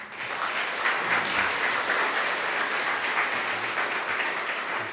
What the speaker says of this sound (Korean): 박수 많이 받으시네요.